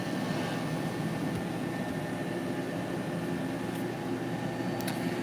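A Uninet UVDTF 3000 UV DTF printer runs with a steady, broadband mechanical hum and whir, even and continuous throughout, with a couple of faint brief ticks near the end and no talk.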